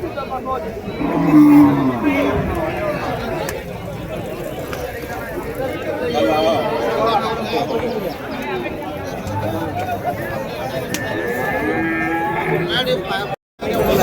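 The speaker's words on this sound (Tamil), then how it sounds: "இங்கே ஒரு ஜோடி நாட்டு பசுமாடுங்க." Native cows moo repeatedly, some calls near and loud, others farther off, over constant crowd chatter and talking at the Uthangarai cattle market.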